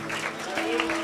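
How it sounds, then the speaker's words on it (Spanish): Church congregation clapping during a Good Friday Holy Week service, a short burst of applause blended with sustained musical tones and voices. "Dile un aplauso al Señor."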